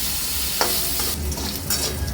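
Chopped coconut fries in hot oil, crackling and sizzling steadily up close, with occasional stirring scrapes and no talking.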